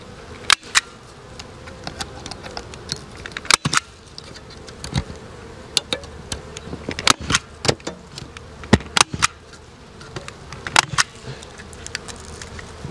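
Honey bees buzz at a beehive entrance fitted with a folded sheet-metal guard, a soft continuous hum scattered with sharp clicks and taps from bees and metal, close, with no speech.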